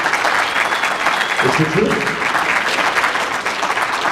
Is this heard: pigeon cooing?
no